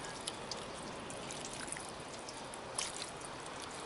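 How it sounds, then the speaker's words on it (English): Clean water poured over a car battery to rinse it after cleaning, a steady broadband splashing and trickling wash running continuously outdoors at moderate level, with a slightly louder splash near the end. "We're going to pour some clean water on it and rinse it off."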